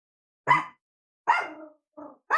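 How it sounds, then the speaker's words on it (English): A dog barks close by in a quiet setting, three or four sharp separate barks spaced about a second apart, the last ones shorter. "What are you barking at?"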